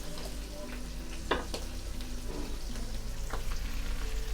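Vegetables such as peas, carrot, potato and onion hitting hot oil in a pan, a steady sizzle with a few sharp crackles and stirring scrapes, heard alone.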